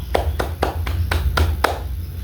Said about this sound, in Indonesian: mari kita berikan tepuk tangan untuk kita semua